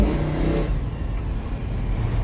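A Chevrolet El Camino with a freshly repaired transmission drives along, its engine giving a steady low rumble with a brief rise in revs near the start, heard up close from inside the car.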